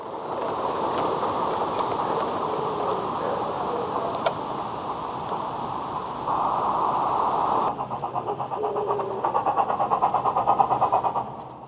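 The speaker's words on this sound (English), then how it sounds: "The train coasts hesitantly into Peckforton. So far, old Tom has managed to keep the loco going" A light railway locomotive hauling a mixed train into Peckforton station, a steady low mechanical rumble with rhythmic chuffing and clanking that grows more pronounced toward the end, with no voices.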